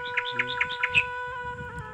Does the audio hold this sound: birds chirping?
yes